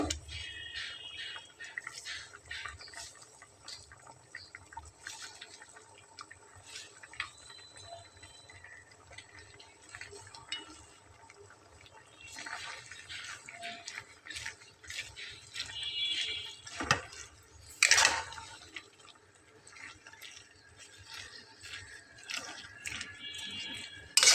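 Water spinach greens dropping into a pot of simmering red lentils, a soft wet squish and drip with gentle bubbling, fairly quiet and close, with a brief sharper splash near the end and no talking.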